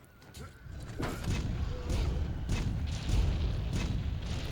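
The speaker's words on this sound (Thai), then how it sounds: "ผมวิ่งไปยิงปืนใหญ่กระบอกเนาะ" A cannon fires in the video game Monster Hunter World, producing several heavy booming blasts about a second apart over a rumbling battle backdrop.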